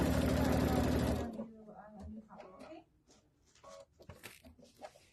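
A sewing machine stitches a quilted belt bag with a size 90 needle, running fast and loud in a steady whir for about a second before stopping, followed by quiet handling sounds and a voice speaking.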